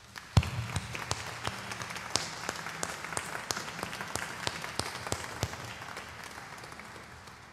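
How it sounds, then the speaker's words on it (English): Scattered applause from a concert audience, sharp individual claps popping over a softer wash of clapping that gradually thins out. "Could we begin tonight first with a round of applause for veterans, police, and first responders"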